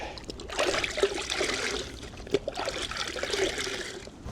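A Toyota Tacoma that has seen heavy off-road use is rinsed at a car wash, giving a soft, uneven spray and trickle of water with a few splashes, fairly quiet and with no talk.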